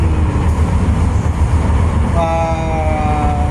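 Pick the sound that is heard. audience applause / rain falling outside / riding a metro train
riding a metro train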